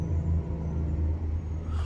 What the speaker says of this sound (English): You see a lot of cars out here on the road.